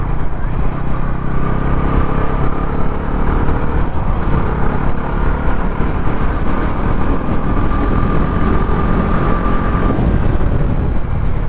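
Bajaj Pulsar NS400Z motorcycle engine running under way, a steady loud roar with road and wind rush that holds at an even level for the whole stretch, with no talking.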